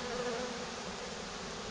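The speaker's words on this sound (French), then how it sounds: "Au milieu du paquet d'abeilles comme ça." Dense, steady buzzing of a honeybee swarm, close and continuous throughout with no voices.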